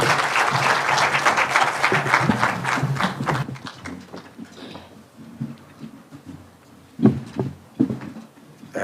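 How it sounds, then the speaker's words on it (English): Audience applause for the Deputy President at a meeting with United Nations agencies in Karen, Kenya, loud and dense for about three seconds, then thinning to scattered claps and a few louder isolated claps near the end. "Please be standing and let us give him a hand clap."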